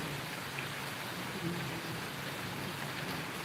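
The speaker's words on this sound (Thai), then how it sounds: "ฝนยังไม่หยุดค่ะ ฝนก็ยังตกอยู่" Steady rain falls in the mountains around Doi Luang Chiang Dao, a dense even hiss with no breaks and no voices.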